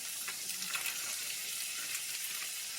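Hominy sizzles steadily in a frying pan for a Mexican-style pulled pork stew, a constant close hiss of frying with faint stirring underneath and no talk.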